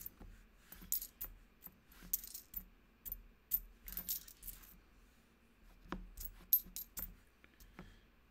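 Coins spill from a nickel coin roll after its paper is pulled out, scattering in a flurry of metallic clinks, chimes and jingles that come in irregular bursts over several seconds and sound fairly close.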